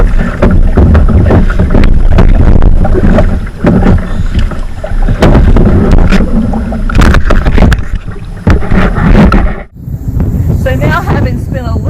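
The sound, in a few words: kayak on the water at Ocracoke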